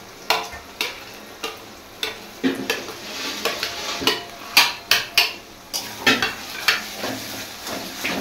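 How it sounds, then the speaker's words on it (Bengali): Ginger-garlic paste frying with onions for an egg tadka sizzles steadily in a pan while a spatula scrapes and knocks against the metal in a regular stirring rhythm, close and fairly loud. "এই আদা রসুনটাকে ভালো করে আবার ফ্রাই করে ভাজা করে নিতে হবে"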